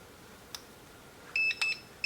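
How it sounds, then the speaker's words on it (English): A few short electronic beeps from a DEERC D11 mini drone remote control connecting sound in quick succession, faint and high-pitched, after a single soft click in an otherwise quiet room. "So now it's connected. So you heard the quick beeps."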